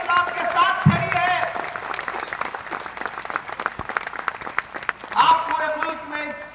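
A large crowd claps at a political rally at Bariatu Pahadi Maidan in Ranchi, with loud, sustained applause mixed with voices over an amplified public-address sound.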